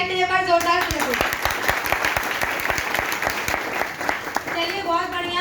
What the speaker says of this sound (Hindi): बिल्कुल राइट सर, के लिए बार जोरदार तालियां